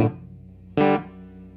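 An electric guitar played through a vacuum tube amp with heavy reverb gives two short struck chords, the second louder and held about a quarter second, each trailing off into a long reverberant decay.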